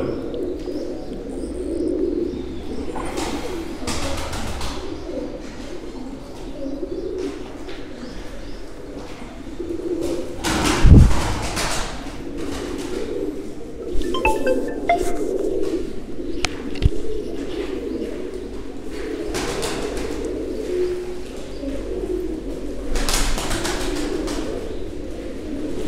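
Mardin tumbler pigeons coo repeatedly in a loft with soft rhythmic calls, some chirps and brief wing flaps, all close by and with no talking.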